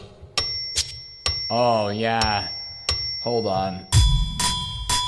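Several bright metallic dings ring out in quick succession, like a register chime, while someone speaks briefly between them.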